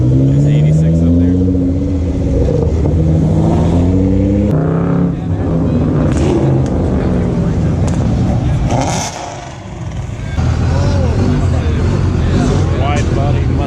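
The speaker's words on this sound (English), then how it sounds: "This GTR sounds good." A Nissan GTR engine revs hard at a street car meet in Charlotte, rising and falling in repeated loud pulls close by, with a brief dip before it picks up again as people talk.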